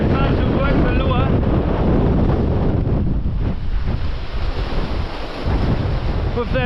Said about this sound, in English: With that wind here